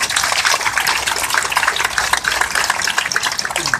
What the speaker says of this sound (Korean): 힘내시라고 뜨거운 경례 박수 부탁드립니다.